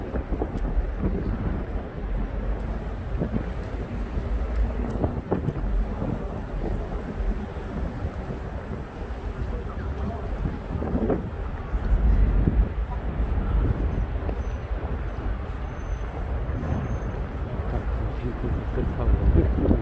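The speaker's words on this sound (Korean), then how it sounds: "바람이 좀 세게 불고" Strong wind blows steadily outdoors in an open plaza near a lake and tall tower in the city, a loud continuous roar and buffeting across the microphone with a heavier gust partway through.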